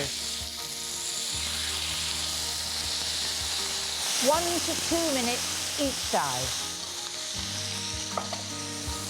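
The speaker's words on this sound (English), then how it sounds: "I'm going to cook these very quickly and on a very hot pan. One there, listen, sizzle, sizzle." Loud, steady sizzling of steaks in a hot pan, with a person speaking briefly over the hiss near the end.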